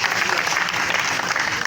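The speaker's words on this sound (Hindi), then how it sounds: "तालियों से आगाज़ करें।" Applause from an audience at a pigeon flying club prize-giving ceremony in Gawalmandi, Lahore, a short burst of steady, dense clapping filling the room with some crowd murmur underneath.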